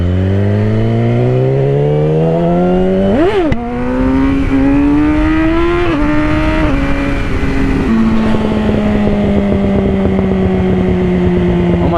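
A Yamaha R6 sport motorcycle engine revs and climbs through gears on a highway, with loud, continuous exhaust note rising and dropping between shifts and rough crackling pops, heard close with no talking.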